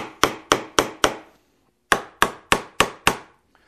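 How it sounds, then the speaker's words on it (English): Hammer blows driving nails through a template into a wooden door rail: a quick run of four sharp strikes, a pause, then five more, close and loud with short ringing decays. "then I'm going to nail that template on the back side"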